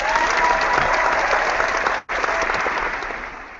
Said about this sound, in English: you just applaud yourself?